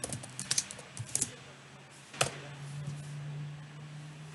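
Quiet typing on a QWERTY computer keyboard during a Windows 98 install, a few scattered soft key clicks in quick bursts, then a louder tap followed by a low steady hum.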